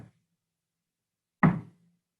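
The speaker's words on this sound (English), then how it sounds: "I'm going to knock on the table and you're going to count how many times you hear me knock" A single sharp knock on a table rings out close and alone in near silence, a brief thump with a quick decay.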